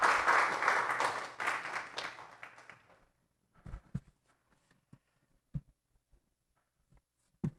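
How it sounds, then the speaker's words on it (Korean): Dense applause from an audience at a book launch event rings out for about three seconds and tapers off, followed by a quiet room with a few scattered taps and knocks. "한번 박수해 주시면 감사하겠습니다."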